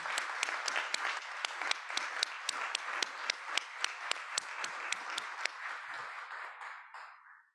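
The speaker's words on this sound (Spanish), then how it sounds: "para las madres especialmente como para las abuelas pido un gran aplauso por estar siempre" An audience in a lecture hall applauds the mothers and grandmothers of Plaza de Mayo, with dense, steady clapping and a few sharp individual claps standing out before it fades away.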